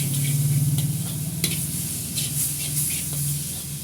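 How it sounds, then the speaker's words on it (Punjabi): Onions and tomatoes sizzle steadily in a pan while a utensil stirs them, scraping in short repeated strokes, close and fairly loud with a constant frying hiss underneath. "ਇਸ ਤਰੀਕੇ ਨਾਲ ਆਪਾਂ ਨੂੰ 2 ਮਿੰਟ ਭੁੰਨਦੇ ਰਹਿਣਾ"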